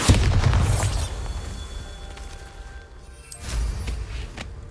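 A Bombarda explosion spell in a video game bursts with a loud boom at the start, its rumble fading over a few seconds before a second, smaller blast swells near the end.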